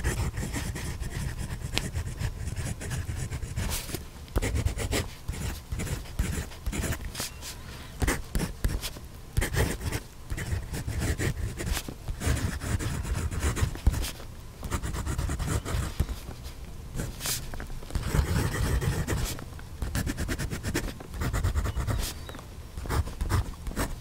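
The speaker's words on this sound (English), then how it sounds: "So we heard the nib on paper." A Moonman M800 fountain pen with a Bock fine nib writes on paper, giving a steady, close scratching and rubbing of strokes with brief pauses between words, continuing alone for the whole stretch.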